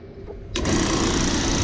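10 ton Compu-aire air conditioning compressor switching on to pump down, a quiet background that suddenly gives way to a loud, steady mechanical hum and whir, close by and continuous.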